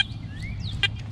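A metal detector gives a brief chirpy tone on a possible coin target outdoors, a rising warbling pitch over low background rumble, with one short louder burst near the end.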